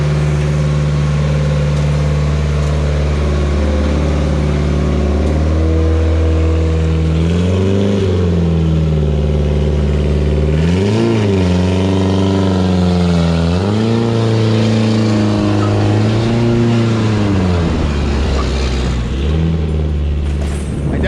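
A loud, continuous race car engine with a fresh build roars close up on a dyno, revving repeatedly up and down in pitch, with a throaty, rumbling drone throughout.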